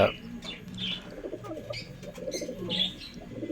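Long-distance racing pigeons in a loft coo repeatedly and close by, with chirps and occasional wing flaps under a murmur of background voices.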